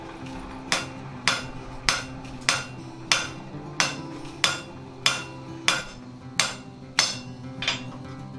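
Steady, evenly spaced blacksmith hammer blows ringing on a steel anvil during forging, about one strike every 0.6 seconds, close and sharp with short metallic decay.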